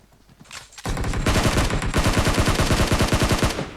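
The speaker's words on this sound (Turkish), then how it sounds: "Abi şu Uzi nasıl sıkıyor böyle ya?" An Uzi submachine gun in PUBG Mobile opens up after a short quiet moment, firing loud, rapid, evenly spaced rounds in a sustained burst that lasts to the end.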